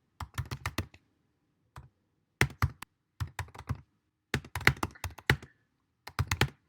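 Someone types on a computer keyboard in quick bursts of crisp, close keystrokes separated by short pauses, with no talk.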